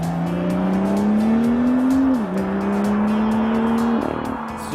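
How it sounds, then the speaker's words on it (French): A 3-litre, 370-horsepower turbocharged sports car engine pulls hard with a steady rising drone and metallic exhaust rasp, dipping briefly at a gear change and settling again near the end, loud and close with no talk. "entre le sifflement de la turbocompression sous le capot et le râle métallique de l'échappement"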